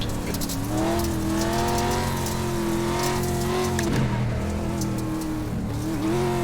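A 3.2-liter Ford V6 race car engine in a racing sim, loud and steady as it holds high revs with a slightly surging drone, then dips briefly before climbing again, filling the whole stretch.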